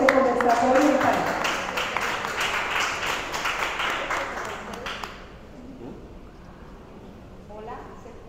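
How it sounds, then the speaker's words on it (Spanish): Applause from the audience at a panel discussion on art and reading comprehension, a dense wash of clapping for about five seconds that fades out, with voices murmuring through it and a speaker's voice beginning near the end. "vamos a recibir con un fuerte aplauso"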